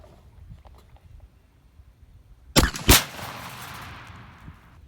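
A 28 gauge shotgun fires a 7/8 oz load of steel shot outdoors with an improved cylinder choke. A loud, sharp blast and a second crack follow a quiet stretch, then a long rumbling decay.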